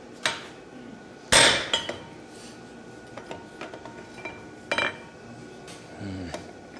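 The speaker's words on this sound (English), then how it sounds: "Rory, hammer him right there." Hammer blows on hot metal at a blacksmithing demonstration at the 2014 Rocky Mountain Smiths Conference: a handful of sharp, irregular metallic strikes, one loud ringing hit among fainter taps, with workshop noise between them.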